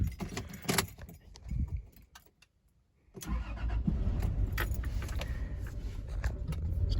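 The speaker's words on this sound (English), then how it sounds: "Let's do a startup from the inside." Keys jangle in the ignition of a 1997 Toyota 4Runner SR5 heard from inside the cabin, a brief pause, then the engine cranks and catches into a steady, loud idle.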